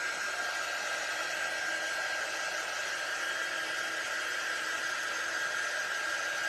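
A hair dryer blows a steady, loud whoosh of air, drying freshly printed ink on a tea towel, unbroken and close with no talking.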